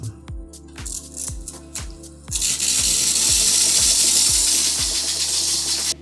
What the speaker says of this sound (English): And then it's going to put some pressure on it and shoot some more out.